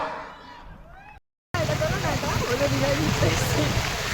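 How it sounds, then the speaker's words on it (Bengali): Heavy rain and rough sea waves crash in a steady, loud wash of noise after a brief silent gap, with some chatter beneath at the start. "এই যে আমরা সমুদ্রে ঘুরতে এসেছি, উতাল ঢেউ বৃষ্টিতে"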